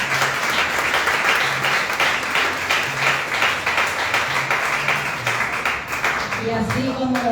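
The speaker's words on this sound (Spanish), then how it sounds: "Y denle un fuerte aplauso al Señor." A church congregation applauding during a service, sustained loud clapping from many hands with a tonal voice or music rising at the end.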